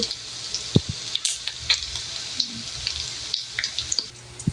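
Dishes being washed under a running tap, a steady hiss of water with scattered clinks and knocks of plates and utensils throughout, close by, with no talk.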